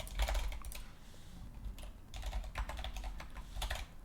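Quick clicks on a computer keyboard come in short bursts of typing with brief pauses between them, close and fairly quiet, with no talking.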